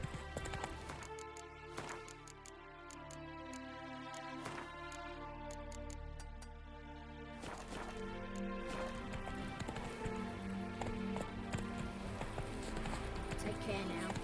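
Roach the horse's hooves clip-clop steadily in The Witcher 3, a fairly quiet rhythmic trot under game music and ambience, with a person talking at times.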